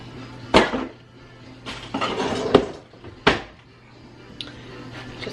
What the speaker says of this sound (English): Just stir this all together.